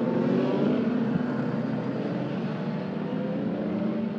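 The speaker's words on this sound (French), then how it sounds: "les voitures qui sont actuellement dans le virage du Château d'Eau" GT race cars in a 20-minute Pièces Auto Hyper Sprint race at Magny-Cours, on the Château d'Eau corner, including a Bentley: a steady, dense engine roar from several cars at once, loud and unbroken.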